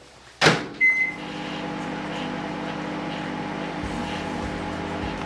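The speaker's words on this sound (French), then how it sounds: "assurez-vous que votre bol passe au micro-ondes" A microwave oven heats mochi dough in a bowl, starting with a door clunk and a beep, then a steady low mechanical hum running on evenly.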